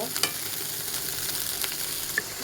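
Onion stalks fry in hot oil in a pan, giving a continuous close sizzle with scattered sharp pops and crackles throughout.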